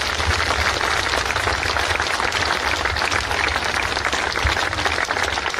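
Dense, continuous applause fills a large gathering at a public rally, loud and steady throughout with no break.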